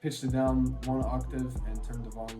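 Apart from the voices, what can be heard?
None of the usual background noises is heard.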